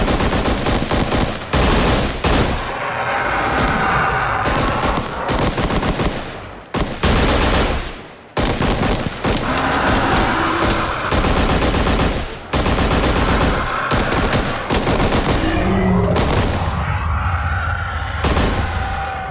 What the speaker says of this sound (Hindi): सिस्टम गोली चलाने के लिए तैयार है। टारगेट देखो और खत्म करो। गोलियां दागने के लिए तैयार।